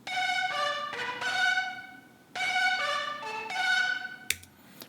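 Tweaked vocal sample used as the lead in a song remake in Logic Pro, playing bright, clean synth-like notes in two short repeating phrases, moderately quiet and alone, ending with a sharp click.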